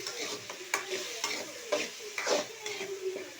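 Chopped tomatoes and onions sautéing in hot oil while being stirred, a steady close sizzle broken by regular scraping stirs of a spoon against the pan, with no voices.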